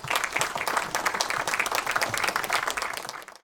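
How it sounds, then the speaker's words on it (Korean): An audience claps steadily for the party leader in a dense, sustained burst of applause that stops abruptly near the end. "대표님 큰 박수 한번 보내드립니다"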